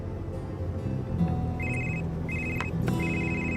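A phone rings with an incoming call from an unknown number, a repeated electronic ringtone in short bursts over a soft musical background.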